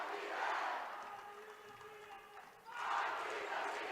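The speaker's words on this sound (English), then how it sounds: "This Westfield crowd really on their feet here." Crowd at a girls' high school sectional basketball game roaring and cheering in two loud swells separated by a quieter murmur, fans and student section on their feet.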